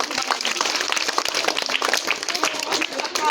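An audience applauds at a school book donation event for a reading campaign, rapid overlapping claps forming a lively, fairly close patter throughout.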